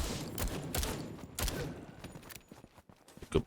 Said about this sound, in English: Oh, a machine gun.